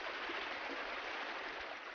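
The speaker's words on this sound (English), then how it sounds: "Clear, shallow, gently flowing waters" Clear, shallow river water flowing gently after a storm, giving a steady, even hiss and rush of current without pause, soft and close.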